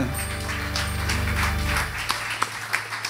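A church congregation applauds in a final acclamation, with steady, dense clapping at moderate volume over a low sustained tone and a few sharper claps near the end.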